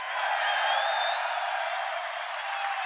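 Dense, steady roar of a large crowd cheering and applauding at a UFC press conference, continuous and loud throughout with no talk over it.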